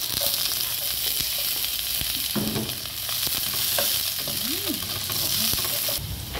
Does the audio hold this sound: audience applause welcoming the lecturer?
no